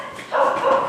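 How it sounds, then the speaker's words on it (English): A dog gives one short, close bark-like yelp that rises suddenly and holds for under a second, with no other sound around it. "She's barking at Mia."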